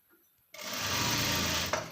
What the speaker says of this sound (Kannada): ನಾನು ಸ್ಲೀವ್ ರೌಂಡ್ಗೂ ಸ್ಟಿಚ್ ಹಾಕ್ತಿದ್ದೀನಿ